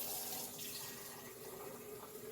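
Hot water runs steadily from a tap while filling part of an Oster juicer, a continuous soft hiss and splash that stays constant and fairly faint, with no voices.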